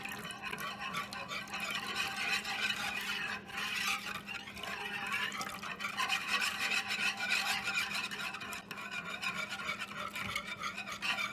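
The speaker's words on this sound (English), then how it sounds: "You're going to whisk it until it's all combined, usually about 3 minutes." A whisk beats hot water into an egg mixture for a chocolate pie, producing a steady rhythmic scraping and swishing against the bowl, close and continuous throughout with brief dips, no voices.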